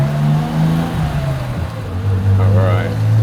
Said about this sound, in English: 911s aren't the loudest cars stock, but they just have such a distinct sound